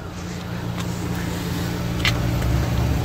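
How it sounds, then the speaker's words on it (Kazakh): A Toyota Camry SE with the 2.5 engine idles in a steady, low, even rumble that holds unchanged for a few seconds, with faint light ticks over it. "Мотор істеп тұр, мотор таза істеп тұр."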